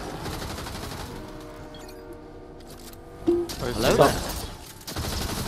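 Rapid bursts of gunfire in the video game Fortnite crackle and pop in quick clusters while a player talks over the action.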